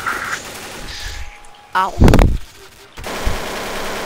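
Gunfire in Counter-Strike, including a shotgun, erupts as a loud close burst of rapid shots lasting about a second in the middle, with game ambience and a brief spoken exclamation around it.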